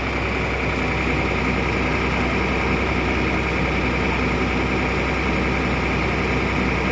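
A roughly 100-year-old antique engine runs without pause, a steady, loud low rumbling drone with constant vibration.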